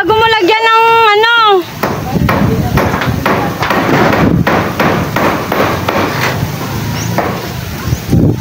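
Nails are hammered outdoors in a windy residential compound, a steady series of sharp, loud blows about twice a second under gusting wind, after a brief high tonal voice at the start.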